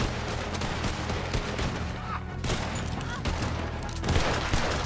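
Gunfire crackles in a shooting game set at Pikes Basin, with rapid overlapping bursts and volleys running loud and constant from start to end, with faint voices mixed in.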